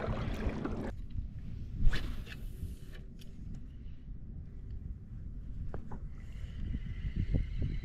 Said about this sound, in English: I'm about to get swamped by this boat